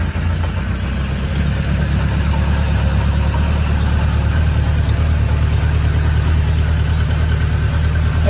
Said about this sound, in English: the bike sounds a bit better now than it did yesterday